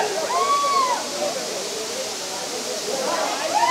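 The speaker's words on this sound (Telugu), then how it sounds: "ఇది కదా వాటర్ ఫాల్స్ అంటే." A waterfall at Araku roars with a dense, steady rush of falling water, loud and continuous, while faint voices or tonal calls surface briefly over it.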